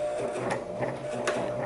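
A sewing machine makes a short back tack on a lace hem of special-occasion fabric, a soft mechanical whir with a few quick ticking clicks, close and fairly quiet.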